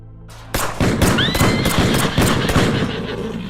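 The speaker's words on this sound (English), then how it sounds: "We awoke in the middle of the night to sounds of gunfire in the distance." A rapid series of sharp, booming gunshots in RimWorld cracks out in irregular bursts, with a brief high whinny-like tone near the start.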